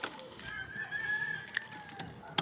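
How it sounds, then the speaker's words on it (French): A rooster crows once in a long drawn-out call at a moderate distance near a tower in Níjar, Spain, with a few faint clucks and clicks around it. "Il y a même des coqs, vous voyez, là-bas à la tour."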